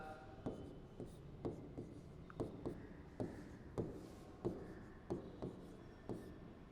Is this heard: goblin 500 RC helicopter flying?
no